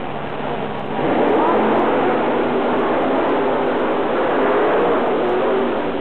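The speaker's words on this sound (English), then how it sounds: "The two fastest trucks on the premises go head-to-head for the championship here in Roanoke, Virginia." Monster trucks with 460 cubic inch engines, including Bigfoot, race head-to-head for a championship in Roanoke, Virginia: a loud, steady engine roar that swells after the first second and holds, with crowd-like broadband noise.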